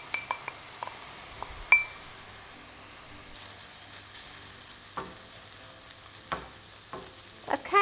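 Vegetables and mashed peas cook in a pan with a soft low sizzle, punctuated by scattered clinks and scrapes of a utensil against the pan, close and fairly quiet.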